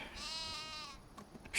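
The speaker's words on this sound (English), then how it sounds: "Sheep are getting close." Sheep bleating on a farm in a single drawn-out wavering bleat lasting about a second, fairly close, followed by quiet farmyard background with faint knocks.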